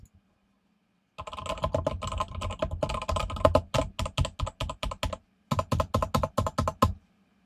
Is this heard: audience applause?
no